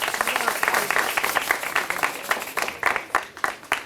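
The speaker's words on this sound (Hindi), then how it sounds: "मोबाइल आप पीछे रख दो और अभी हाथों का इस्तेमाल सिर्फ तालियां बजाने के लिए करो" An audience breaks into dense, fast hand-clapping that rises and dips in bursts over a few seconds, with some voices mixed in under the applause.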